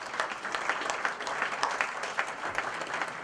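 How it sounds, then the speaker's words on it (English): Steady, fairly faint applause from an in-service day audience at a college, continuous clapping with no break throughout. "I think you should give them all a round of applause."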